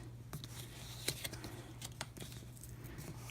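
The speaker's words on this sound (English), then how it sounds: "take your scissors and trim off the excess" Faint snipping of scissors cutting through thin washi tape, a few scattered clicks over a steady low hum.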